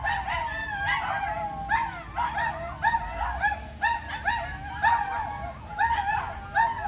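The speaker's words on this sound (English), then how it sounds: "That's a pack of Shih Tzus." A pack of neighbouring Shih Tzus yips and howls together in a steady chorus of high, wavering cries that rises and falls, heard at a moderate distance over faint background hum.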